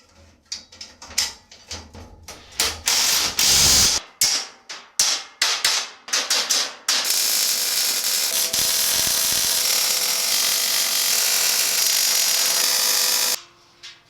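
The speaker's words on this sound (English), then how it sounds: "After the welding was complete, I busted out the sockets to assemble the jig." A socket ratchet bolts together a welded motorbike loading jig, with a run of quick loud clicks and knocks followed by a long, steady, loud whirring drive before it cuts off.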